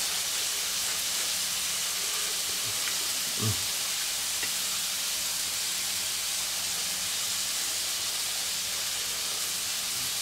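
Chicken fillets fry in a pan with a steady, close sizzling hiss that runs the whole time, broken only by a brief low knock.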